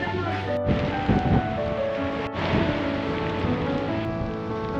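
Steady rain hissing on surfaces nearby, sheltered under a bridge on a coastal trail, with a constant wash of noise and a couple of brief sharp clicks.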